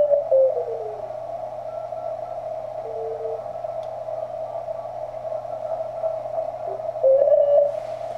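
Morse code CW tones received on a TenTec Century 21 amateur radio, a steady mid-pitched sidetone note keyed in rhythmic dots and dashes over faint hiss, with a slightly shifted pitch near the end.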